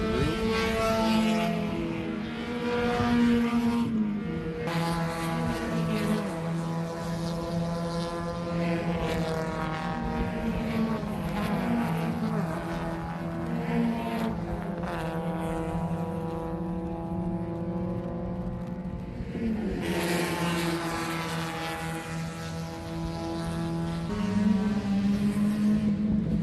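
Race cars lapping the circuit at the FARA Memorial 300, a continuous droning engine roar that swells and fades as cars pass, with no voices over it.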